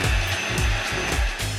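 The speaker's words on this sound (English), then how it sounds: "I do notice that the sound on this hairdryer is softer" A hair dryer blows steadily with a close, even whoosh and a high motor whine, its airflow pulsing slightly every half second.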